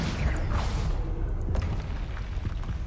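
A Confringo blasting spell goes off in the Hogwarts Legacy video game, a dense rumbling boom with sharp cracks layered over continuous low-end roar, loud and sustained throughout, with no talking.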